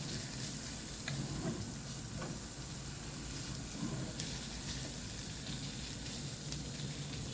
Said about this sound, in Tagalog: Saka ko igigisa ang beef ngayon